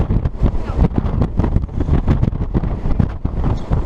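Strong wind buffets the microphone in loud, gusty rumbling bursts on an upper deck of the cruise ship Carnival Freedom, with no talking.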